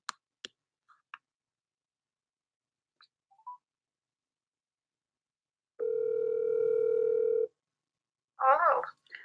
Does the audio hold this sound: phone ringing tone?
yes